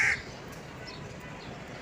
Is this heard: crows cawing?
yes